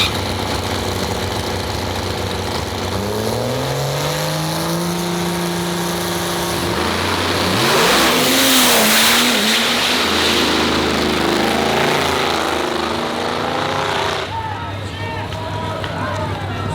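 A diesel drag race car revs and then accelerates hard down the track, its engine roar rising and surging loud and close before easing off, with voices talking over it.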